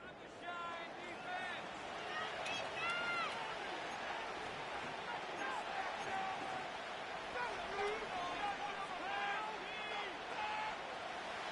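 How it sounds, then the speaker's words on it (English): Stadium crowd noise in an EA Sports NFL video game: a broad, sustained roar of cheering with whistles, heard under a play-by-play commentator's voice. "The crowd making their presence felt."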